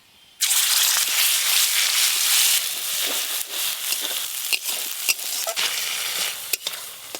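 Cumin and dried chilli paste hit a hot pan and burst into loud sizzling, then keep frying with a crackling hiss while a spoon stirs and scrapes in short bursts.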